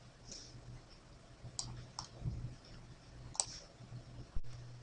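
Computer input clicks while working in 3ds Max, a handful of sharp, faint mouse or key presses spaced irregularly over quiet room tone.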